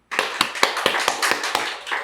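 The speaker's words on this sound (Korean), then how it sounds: "감사의 박수를 올려드리십시다" A church congregation claps in thanks after a sermon, a burst of sharp, slightly irregular hand claps that start abruptly and continue steadily for about two seconds, fairly close and without talk.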